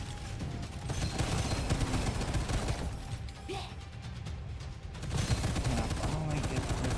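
Rapid gunfire from a first-person shooter game, Gunfire Reborn, with dense bursts of shots and crashing impacts running steadily throughout at close, loud level, briefly easing midway before resuming.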